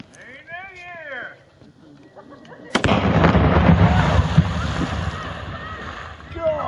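Home made fireworks go off on New Year's Eve: a sudden loud blast, then a long roaring, crackling wash of sound close by, with voices talking beforehand.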